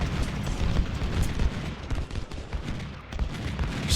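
Musket volleys roll on in the Civil War battle game Ultimate General: Civil War at Gaines Mill, with a continuous rumble of overlapping distant gunfire and thumps, fairly loud and without talk.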